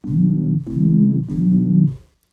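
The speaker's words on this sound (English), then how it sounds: "This is going to be a nice sine wave." A smooth, low synthesizer sine wave tone in Serum plays three sustained notes in a row, each separated by a brief gap, then stops.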